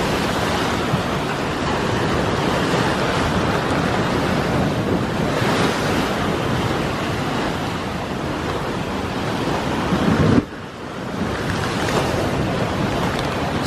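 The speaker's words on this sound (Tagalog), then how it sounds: "Ang lakas kasi ng alon eh." Strong ocean surf crashing continuously on the Ilocos coast, with heavy wind buffeting the microphone and a brief gust-like burst near the end.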